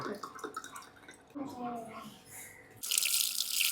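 Ice water is poured into a cup or glass, filling it with a bright, splashy rush near the end after some talking and softer trickling.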